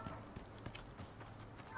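Horse hooves clip-clop in the survival video game Icarus, a few soft scattered hoofbeats at a slow walk, fairly faint and heard alongside low background game sound.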